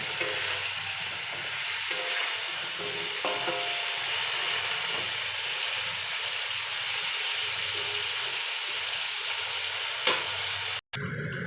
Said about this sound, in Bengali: তারপরে পটলটা কিন্তু কড়াইতে দিয়ে দিলাম।